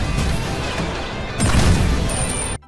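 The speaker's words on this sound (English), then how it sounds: "Explosions are big and impactful." A loud, heavy explosion in a squirrel-themed video game booms and rumbles, swelling midway before cutting off abruptly near the end.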